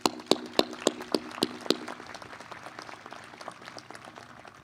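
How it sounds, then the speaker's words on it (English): At a spring university commencement ceremony, a sparse audience applauds: about seven sharp, separate claps at a steady rhythm, followed by quieter, scattered clapping that fades out. "Please give him a round of applause."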